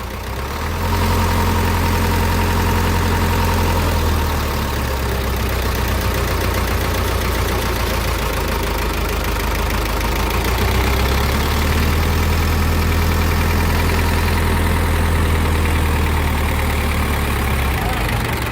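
An Isuzu 4BE1 diesel truck engine idles steadily after starting, with a deep, rumbling drone and slight knocking, loud and close, with voices talking over it at times.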